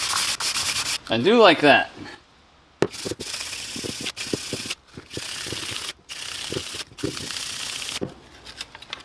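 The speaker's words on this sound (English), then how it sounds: "Just keep all of the sanding one way. Yeah, we'll use the orbital everywhere that we can." An orbital sander works a fork on a Kawasaki KZ400 project bike during a rebuild, running in choppy stretches of gritty rubbing broken by pauses, with a brief whirring pitch sweep early on and a voice speaking briefly.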